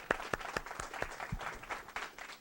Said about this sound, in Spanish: dándoles de nuevo un aplauso muy fuerte por su participación